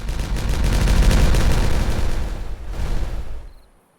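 A loud, rumbling explosion in the video game Timberborn booms and crackles for several seconds, with a second swell before quickly dying away into silence.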